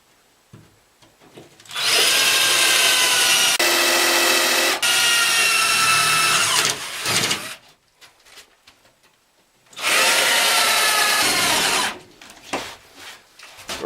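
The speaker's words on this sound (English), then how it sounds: "where I'm going to be drilling my holes for the water nipples to come through" A power drill bores holes through an interior wall panel of a rabbit hutch for water nipples: two loud, sustained bursts of whining, grinding drilling, each several seconds long, separated by a quiet gap with small handling knocks.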